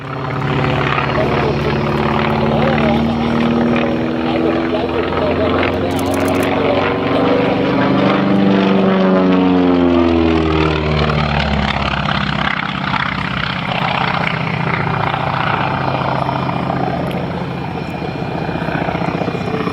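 A Grumman Wildcat WWII fighter plane's radial engine drones loudly as the aircraft passes overhead at an air show, its pitch sweeping downward as it goes by, with a voice talking underneath.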